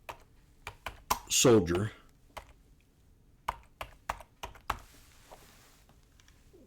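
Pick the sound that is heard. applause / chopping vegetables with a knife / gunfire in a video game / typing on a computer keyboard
typing on a computer keyboard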